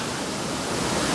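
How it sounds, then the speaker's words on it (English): Flowing creek water outdoors, a constant broadband rushing wash, close and steady for a brief moment. "The creek is over here to the left, as you can imagine."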